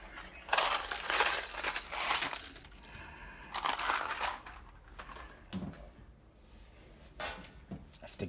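Small plastic game counters for a homemade trading card game are scooped and shuffled from a pile, producing rattling clinks and clattering taps close by, then quieter scattered clicks.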